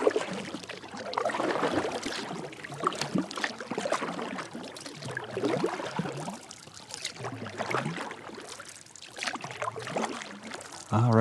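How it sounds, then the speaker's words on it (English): A kayak paddle dips and pulls through water on a fishing outing, rhythmic splashes and gurgling drips repeating every couple of seconds, close and moderately quiet with no talking. "I've still got about 15 minutes of paddling ahead of me"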